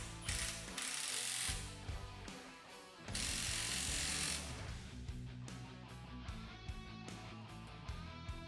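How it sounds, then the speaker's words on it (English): Ratchet tightening the nut on a strut spring of a 2016 Camaro SS fitted with RST lowering springs: bursts of rapid, close clicking alternate with slower individual clicks toward the end. "make sure and line it up and put the nut back in and tighten it down."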